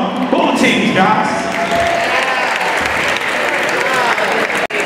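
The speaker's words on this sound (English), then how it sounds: "How about a round of applause for both of them?" Crowd applause at a CSUN college basketball game, recognizing both teams, a dense sustained roar of clapping and cheering that fills the arena, loud and close, with voices mixed in.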